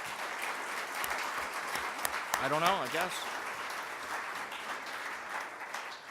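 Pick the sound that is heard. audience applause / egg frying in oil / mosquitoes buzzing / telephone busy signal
audience applause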